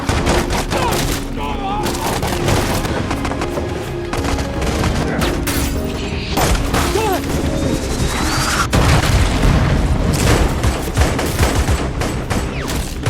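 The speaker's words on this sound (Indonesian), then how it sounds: "Akhirnya baku tembak pun terjadi antara mereka dan pasukan Maigret." Gunfight in a crime film set in Miami: dense bursts of gunfire and booming impacts under a loud, busy soundtrack with music, short pauses between volleys, and brief voices mixed in.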